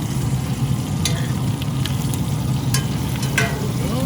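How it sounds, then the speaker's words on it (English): Chicken thighs sizzle steadily in a hot pan, a dense crackling fry with a few sharp scraping clinks on top. "you can hear them sizzling good"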